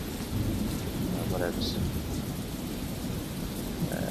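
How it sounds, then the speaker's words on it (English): Rain pours steadily with rolling thunder in a video game's farmland, a continuous loud storm wash with a low rumble throughout and a brief spoken remark over it. "It's raining. Shouldn't you find shelter?"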